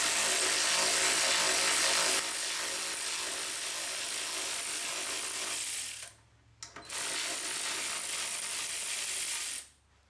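Broadband mechanical ratcheting from a hand ratchet working 15mm bolts loose on a Ford van's sway bar bracket, steady and close for several seconds, with two brief pauses where the tool stops.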